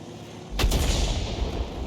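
A single heavy tank cannon shot in War Thunder, with a loud, deep blast about halfway in that rolls on in a rumbling decay. No one speaks.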